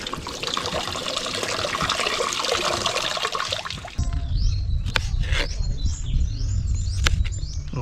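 Freshly harvested calamansi being washed in water, heard as a steady splashing rush of water, then a louder churning of water and fruit with sharp clicks and knocks up close, while birds chirp faintly in the background.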